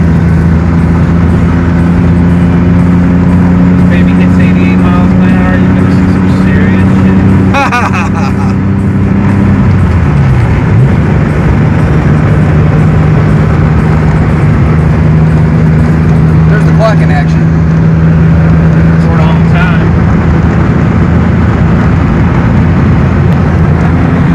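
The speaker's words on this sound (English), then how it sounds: "So this is what it feels like driving. Like technically riding in a DeLorean." Inside a moving DeLorean DMC-12, a loud, steady engine and road drone fills the cabin, with a brief dip in pitch partway through as the car shifts speed. People talk over it.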